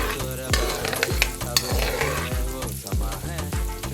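A tadka for dal makhani fries in hot oil with a loud, dense crackle, while rhythmic low thumps beat underneath, likely background music, throughout the short stretch.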